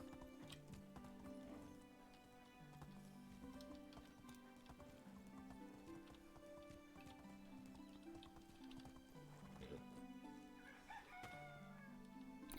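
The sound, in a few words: chickens clucking in video game Medieval Dynasty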